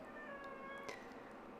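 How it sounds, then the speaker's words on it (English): A cat meows faintly in the background of a quiet room, a thin drawn-out cry with a brief sharper accent near its end. "If anyone's wondering, that's the cat in the background"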